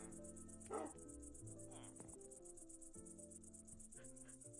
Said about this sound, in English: Indeed, those are cricket noises.